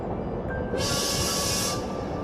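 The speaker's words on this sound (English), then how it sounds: "the shudders of the train grow stronger as we begin to slow down" Train in the Heart of the Woods video game slowing down, a low rumbling rattle throughout with a shrill, hissing whistle-like burst rising over it for about a second before cutting off.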